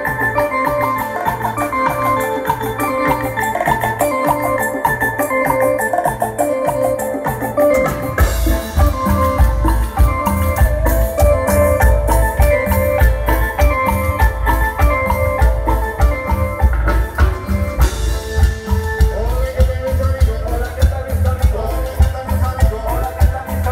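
Colombian medley played live at a dance in Altamirano by a band led on digital piano, with dense rhythmic bass and percussion under bright keyboard melody, steady and loud throughout with a fuller section after the opening bars.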